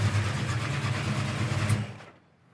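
A 1970 Buick GS 455 V8 resto-mod fitted with aluminum heads, fuel injection and headers runs with a steady low rumble, then cuts off near the end, leaving quiet.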